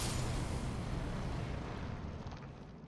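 A big rumbling explosion in the video game Elden Ring, a dense, roaring blast of broadband noise that holds loud and then slowly fades over a few seconds, with no talking.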